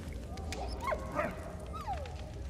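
A dog in the video game Valiant Hearts gives a few short whimpers and yips over quiet game ambience, with no voices.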